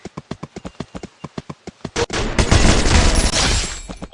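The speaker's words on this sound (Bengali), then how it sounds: "এই যে একটা কিন্তু উজি দিয়ে ডাইরেক্ট হেডশট মেরে দিলাম।" Rapid Uzi fire in a shooter game landing a headshot, preceded by a steady run of evenly spaced clip-clop taps like hoofbeats, then a loud dense burst of gunfire before the tapping resumes.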